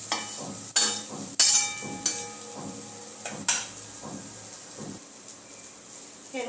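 Biryani masala sautéed in a pan with aloo for aloo dum biryani: a soft sizzle runs under several sharp metal spatula scrapes and clinks against the pan, close by, with no talking.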